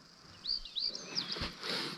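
Several faint, brief bird chirps in a spring forest at dawn beside a marsh, rising and falling whistles over quiet natural ambience.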